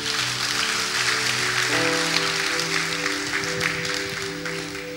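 A church congregation applauds at a Christmas service, broad even clapping over a sustained organ or keyboard chord that shifts partway through, fading slightly toward the end.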